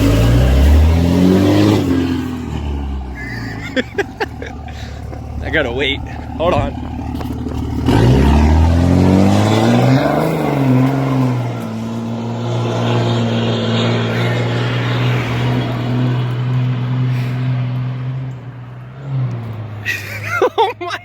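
A 2006 Cummins diesel truck with a 5-inch downpipe to 8-inch tip axle dump accelerates hard, a loud rising engine roar with gear-change dips that fades into the distance, with people talking over it.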